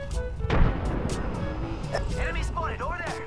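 A frag grenade goes off in the video game Apex Legends with a sharp, loud blast that rumbles away, followed by further game sounds and in-game voice callouts.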